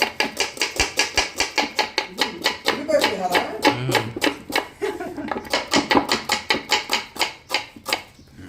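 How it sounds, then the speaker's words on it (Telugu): Onions are sliced lengthwise with a knife on a cutting board, giving a steady run of crisp, evenly spaced chops close up, with a short pause in the middle. "ముందుగా అయితే ఆనియన్స్ ని ఈ విధంగా పొడుగు కట్ చేసుకోవాలి"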